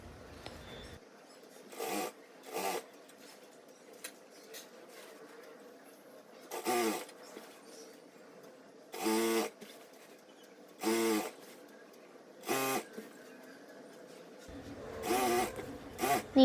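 Sewing machine stitching main lehenga fabric at a half-inch seam, running in short separate bursts of rapid stitching with quiet pauses between them, close by and with no talk.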